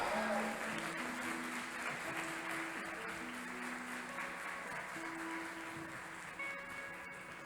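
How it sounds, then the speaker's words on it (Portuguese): A congregation applauds during a Sunday church service, a broad, steady wash of clapping heard from some distance, fairly faint, with sustained organ or keyboard tones ringing underneath. "dê um forte aplauso ao Senhor"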